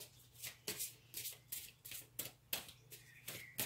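A deck of tarot cards is riffled and shuffled in quick, crisp bursts about every half second, close up and fairly quiet, with a faint steady hum underneath and no talking.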